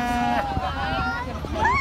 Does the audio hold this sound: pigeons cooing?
no